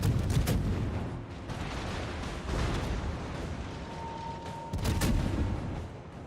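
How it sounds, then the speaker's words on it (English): US destroyer guns firing in World of Warships: repeated booming salvos come at irregular intervals over a steady rumbling battle backdrop, with the loudest reports near the start and again toward the end. "these are, you know, basically US destroyer guns that you're shooting"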